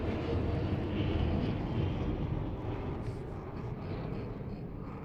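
A low-flying propeller plane passes at about 180 km/h during a karting championship event, a loud, steady broadband engine drone that swells and then eases slightly as it moves past, with no talk.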